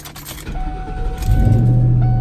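A 1998 Ford Mustang GT is cranked and its engine catches, settling into a steady close idle rumble after a brief starter whir, with faint key jingle beforehand and no talking.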